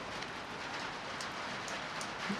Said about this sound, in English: It always rains when I'm working on my car.